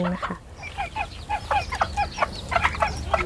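A bantam chicken clucks in quick, agitated bursts while being caught and held, the calls close and repeated in an irregular rhythm over faint handling noise.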